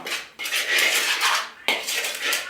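Dry pie-crust ingredients being mixed in a bowl, with a steady clatter and scrape of a utensil against the bowl in two close, busy bursts broken by a brief pause.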